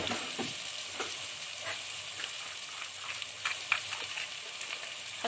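Vegetables frying in a little oil in a cooking pot give a steady, close sizzle and crackle with light stirring scrapes throughout, no voices.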